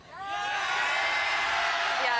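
A live studio audience at a late-night comedy show erupts in loud, sustained cheering and whooping that swells quickly and holds steady as one dense crowd roar.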